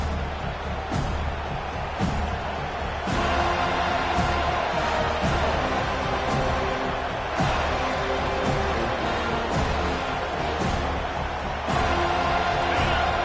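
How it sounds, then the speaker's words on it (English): A dense, steady roar of a stadium crowd in EA College Football 25 at a Notre Dame versus Florida State game, loud and continuous, with occasional sharp thuds and swells and faint voices beneath. "This crowd bringing an ear-splitting welcome to their visitors."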